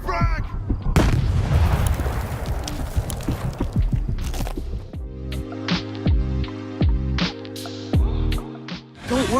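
Frag grenade blasts and gunfire from a video game burst out close and loud, followed by a string of sharp, evenly spaced shots.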